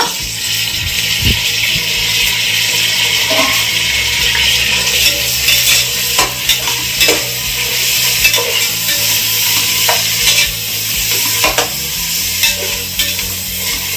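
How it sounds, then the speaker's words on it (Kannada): Tomato and onion frying in a pan, a loud close sizzle broken by frequent clinks and scrapes of a spoon stirring against the metal, with no talk. "ಚೆನ್ನಾಗಿ ಫ್ರೈ ಆಗುತ್ತೆ ಟೊಮೊಟೊ ಈರುಳ್ಳಿ ಎಲ್ಲ"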